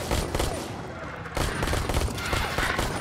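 Continuous loud gunfire in the VR video game Ark Park, rapid overlapping shots in a steady barrage with a short dip partway through before resuming at full intensity.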